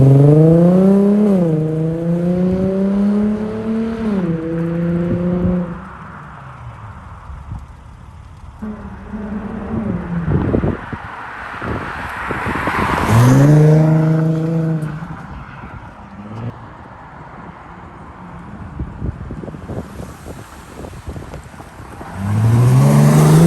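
An Infiniti G35 sedan with an ISR single exit exhaust revs up through several gears and passes close by, loud rising engine sweeps with gear changes and quieter gaps between runs.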